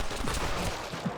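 A burst of rapid gunshots during a backward-shooting moment in the Western video game Red Dead Redemption, dense and crackling with steady loudness through the brief stretch and no talking over it.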